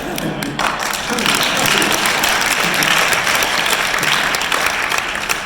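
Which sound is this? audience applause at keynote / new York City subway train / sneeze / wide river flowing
audience applause at keynote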